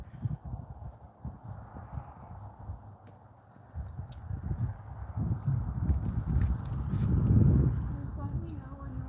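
Horse hooves clip-clop at a walk during a session at a horse rescue, steady soft footfalls close by with people talking over them and wind in the background.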